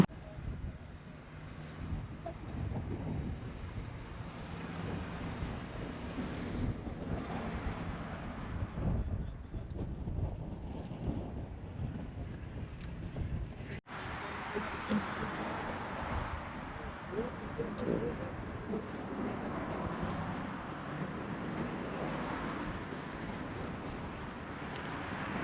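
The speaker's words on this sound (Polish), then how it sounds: "No właśnie sobie siedzę na łódce, taki rejsik po Bosforze" Aboard a sightseeing boat cruising the Bosphorus, a low engine rumble and wind buffeting the microphone run continuously, with occasional water and hull noise and some talking in the background.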